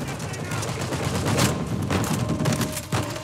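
Enemy turret gunfire in Uncharted 4 rattles in rapid, loud bursts with heavy impacts, a continuous fusillade filling the moment.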